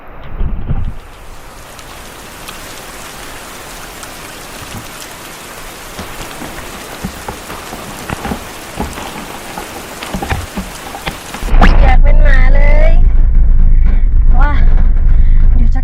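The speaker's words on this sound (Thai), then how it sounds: "ฝนตกแรงมาก" Heavy rain pours down during a jungle hike, a loud, dense patter of drops that continues throughout, turning into a louder, rumbling wash near the end.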